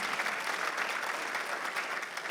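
Congregation applauding during a Sunday worship service in a church, an even wash of many hands clapping at moderate distance, steady and unbroken without any voices.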